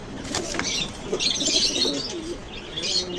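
Several pigeons coo softly with bursts of wing flapping at a pigeon market stall, close by and without any voices.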